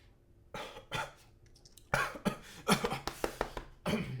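Bursts of harsh coughing from a man, several separate fits in quick succession with short gaps between them, close and fairly loud with no talking.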